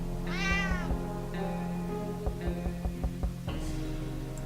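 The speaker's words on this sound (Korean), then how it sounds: "고양이 얻었고" A cat meows in the survival video game 60 Seconds, with two or three drawn-out, tonal meows standing clearly over a steady background music bed.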